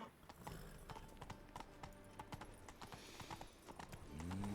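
Horse hooves clip-clop at a steady trot in a Witcher 3 game scene as Geralt rides his horse Roach through Novigrad, over ambient town background, with a low whinny near the end.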